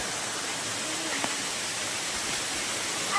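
Water flows steadily at Tapkeshwar on Osam hill near Patanvav, a constant rushing hiss like a small waterfall, close and unbroken throughout.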